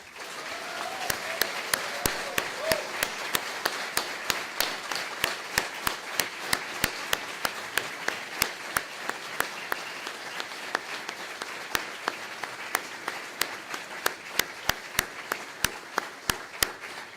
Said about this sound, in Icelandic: Gefið þeim síðan gott klapp.